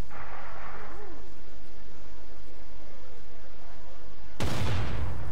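In the video game Planet Coaster, after several seconds of noisy background hiss, a sudden loud explosive blast erupts near the end, booming and crackling.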